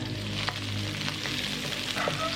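Onion, ginger and garlic sautéing in a pan, a steady close sizzle with faint stirring scrapes and a few brief clicks, no voices.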